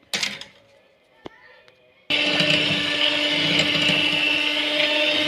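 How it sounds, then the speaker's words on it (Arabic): An electric hand mixer beats milk, oil, sugar and eggs for a simple cake, switching on abruptly after a quiet stretch with a couple of clicks, then whirring loudly and steadily without pause. "هضربهم كلهم مع بعض بالمضرب الكهربائي."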